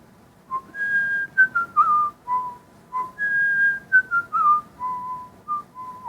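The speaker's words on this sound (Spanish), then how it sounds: "Y empecé como a silbarla." A person whistles a melody alone, a clear bright tune in phrases with sliding and held notes, close and fairly loud, with no talking.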